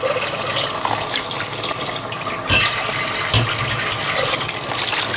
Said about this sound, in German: So ein bisschen hier Wasser drauf.